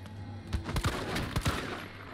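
Gunfire in the video game Resident Evil 3 Remake comes as a few quick, sharp reports in close succession over a low rumbling backdrop, fairly quiet overall.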